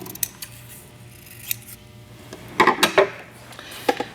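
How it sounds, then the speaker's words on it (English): Scissors rough-cut a sheet of paper laid over quilting fabric for paper piecing, giving a series of close, crisp snips, with a louder cluster of cuts near the middle and a few quieter ones at the start and end. "just lay it on top of my fabric and rough cut it"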